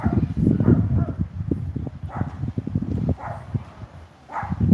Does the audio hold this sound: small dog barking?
yes